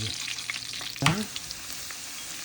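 Onion and garlic fry in a pan with a quiet, steady sizzle, broken once by a brief clatter of stirring partway through.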